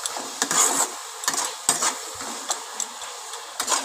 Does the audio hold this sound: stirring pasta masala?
yes